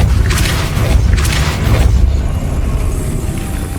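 A Depulso spell cast in Hogwarts Legacy, a loud, dense whooshing blast that swells and holds across the moment as one continuous forceful burst.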